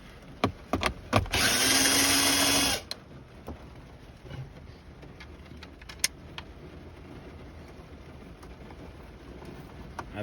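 A power drill spins out screws from a car radio install kit, giving a single loud whir of about a second and a half, preceded and followed by sharp clicks and knocks of handling the parts, close and alone without talk.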